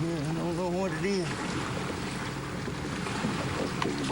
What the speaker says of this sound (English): The waves are going to turn me over.